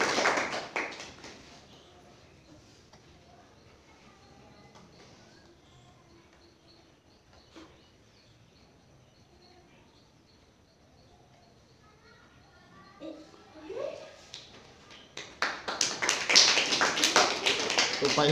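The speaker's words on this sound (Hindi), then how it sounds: "चलिए पहले तालियां बजाएं" An audience applauds during a magic trick show, a short patter of clapping at the start, then a louder, building round of applause over the final few seconds after a quiet stretch.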